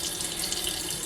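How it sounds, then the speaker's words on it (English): Hot water streams steadily from a sink tap, a continuous hissing splash, close and even, with no voices over it. "We've got some hot water turned on in the sink here. And we're just going to take a little stream of it"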